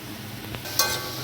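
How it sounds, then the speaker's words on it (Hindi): Masala being stirred into frying onions in a pan for a Punjabi chana masala gravy, with a soft steady sizzle, a brief scrape near the middle and one sharper spoon knock toward the end. "अब इसमें मसाला मिक्स कर रही हूँ मैं।"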